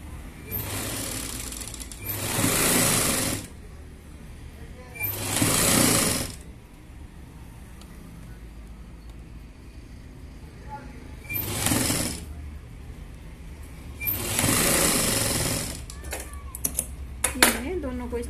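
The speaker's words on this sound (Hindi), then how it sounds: "इस तरह से इस पर सीधी सिलाई लगा देंगे।" A sewing machine runs a straight seam along a double frill sleeve for a blouse, in four separate loud whirring bursts of a few seconds each with quiet gaps between them.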